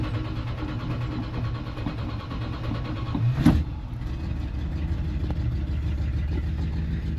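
A retro Ram truck engine runs steadily at a low, rumbling idle, close and fairly loud, with a brief sharp knock partway through before the even running continues.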